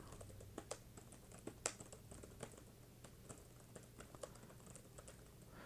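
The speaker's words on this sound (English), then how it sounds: "I'm just going to start typing a bunch of random junk." Random text typed on a computer keyboard, a steady run of close, crisp key clicks with uneven rhythm and occasional sharper strikes over a quiet room.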